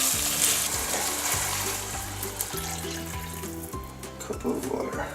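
Water poured into a sloppy joe mixture in a pan, a steady broadband splashing and sizzling rush that runs continuously and fairly loud, with rhythmic cooking noise underneath.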